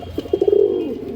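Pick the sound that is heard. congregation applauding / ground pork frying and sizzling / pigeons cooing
pigeons cooing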